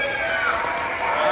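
An audience at an aquarium dolphin show shouts and cheers on cue, a brief loud burst of mixed voices and some clapping that swells and fades slightly over a moment.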